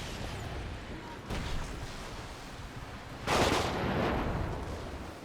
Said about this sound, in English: The airstrikes are still after me.